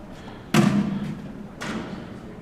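Two thuds of cornhole bean bags landing on the board at a professional qualifier match: a heavy, close thump followed about a second later by a lighter second impact.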